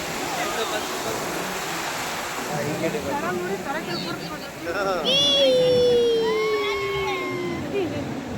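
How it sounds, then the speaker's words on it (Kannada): Ocean waves surging at a Goa beach during a rainy spell, a broad steady wash of surf close by that swells midway, with people talking and calling out over it. "ಓಯ್ ಎಷ್ಟು ನೀರಿರೋ ಗೊತ್ತಾ ಫುಲ್ ಅಲೆ ಬರ್ತಾ ಇದೆ"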